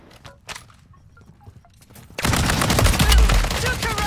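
Rapid automatic gunfire from an LMG in Call of Duty MW3 Zombies erupts after a quieter stretch of scattered shots, becoming a loud, sustained burst.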